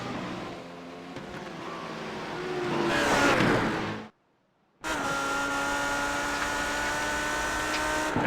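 A BMW race car in iRacing at the Nürburgring endurance race whines steadily with engine drone, swells louder, cuts to brief silence, then resumes at a steady pitch, with no talking.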